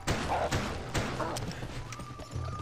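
Horse hooves in the video game GUN, a quick run of close, thudding clip-clops over a busy game soundscape, with someone talking underneath.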